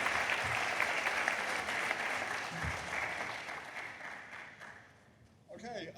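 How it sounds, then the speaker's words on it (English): An audience applauds city council candidates at a debate, sustained crowd clapping that gradually fades over several seconds, then breaks off as a voice begins speaking near the end. "let's give them a round of applause"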